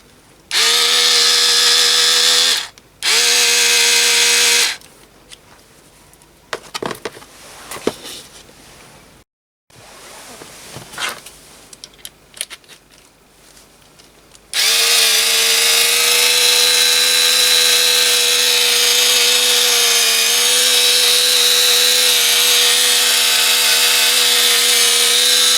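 A MOHOO 3.6V USB cordless screwdriver with a flexible drive whirs in loud bursts, stopping and starting, with clicks and handling noises between, then runs steadily for a long stretch.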